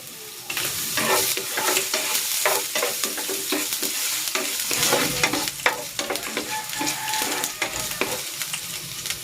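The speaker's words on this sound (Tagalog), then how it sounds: "Ilalagay ako ng cooking oil. Igigisa ko na tong luya." Ginger sautéing in hot cooking oil for a fried round scad dish, with a loud, continuous close-up sizzle broken by frequent clattering stirs and scrapes throughout.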